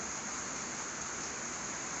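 Steady rain falling outdoors on a farm where cattle stand in the open, a dense even hiss that fills the whole moment without breaks, fairly loud and close, with no voices.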